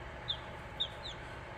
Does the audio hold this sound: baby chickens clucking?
yes